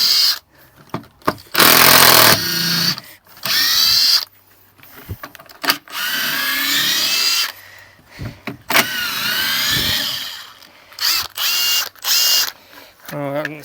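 A cordless drill whirs in several short, loud bursts, stopping and starting, with ratcheting clicks and handling noise between runs.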